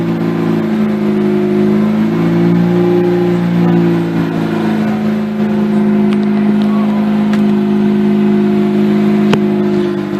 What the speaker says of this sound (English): So this is a cold start with the original plugs.